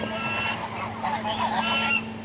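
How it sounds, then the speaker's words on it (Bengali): Ducks quacking and honking in a loose, overlapping flock, fairly close, with a low steady hum underneath. "এই যে হাঁসগুলো একটু পানিতে চোবাই"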